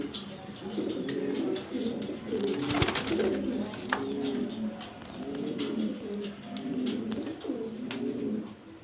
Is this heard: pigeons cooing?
yes